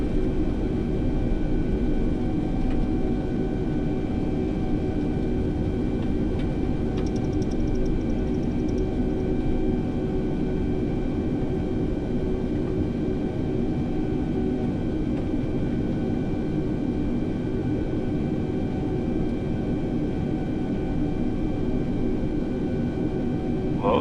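Airplane taxiing on the ground in Microsoft Flight Simulator 2020, a loud steady engine drone with a constant low rumble, unbroken and close for the whole stretch, no voices.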